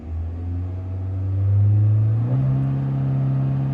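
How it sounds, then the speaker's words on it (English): A 2024 Chevy Malibu 1.5 turbo four-cylinder engine revs up in a couple of short bursts, the low rumble rising and settling at a higher idle, close and fairly loud. "Just some short revs."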